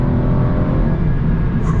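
An Aston Martin accelerating hard, its engine giving a loud, dense, steady roar close by for about two seconds, with no voices over it.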